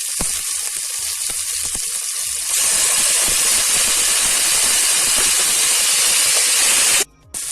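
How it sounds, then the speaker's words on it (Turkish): Tomatoes dropped into meat frying for an okra stew set off a loud close sizzle and steamy hiss that jumps up partway through and stays strong, with a brief dip near the end. "Şimdi domatesini ekliyorum."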